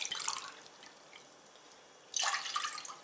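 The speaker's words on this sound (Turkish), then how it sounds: "su ilave ediyorum. Şerbeti için." Water poured from a glass into a pot to make syrup for double-roasted Turkish delight, a splashing pour at the start and another louder burst near the end, with a quieter dripping gap between.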